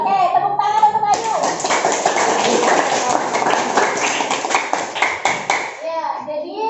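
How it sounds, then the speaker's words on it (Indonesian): A classroom of students claps for a classmate, a dense burst of applause lasting several seconds before it tapers off, with a teacher's voice just before it. "Oke, tepuk tangan untuk Ayu."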